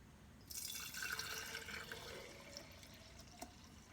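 Homemade yogurt poured into wide-mouth Ball canning jars makes a soft liquid trickle and glugging that starts abruptly, stays faint and close, and then eases off with a few drips.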